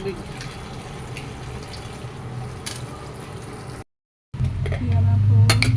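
Tap water runs in a steady broadband rush in a home kitchen while an eggplant salad is being made. The flow cuts out for a brief silent moment, then returns louder and fuller.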